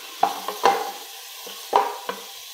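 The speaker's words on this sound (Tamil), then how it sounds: "வெங்காயம் சேர்த்து நல்லா வதக்கிடலாம்." Onions sautéing in a pan for chicken kuzhambu, sizzling steadily while a spoon stirs in several distinct scraping strokes, close and loud, with no talk.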